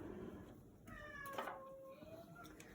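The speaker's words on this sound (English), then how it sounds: "My cat's wanting to go outside" A pet cat meows to be let outside in a kitchen while steak and vegetable soup is being made, several drawn-out rising and falling meows, fairly close and clear over quiet room noise.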